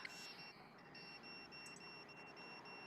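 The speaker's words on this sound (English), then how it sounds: "it's my GPS for the truck" A truck's GPS unit gives repeated high electronic beeps at a steady rhythm, faint and thin over a soft background hiss.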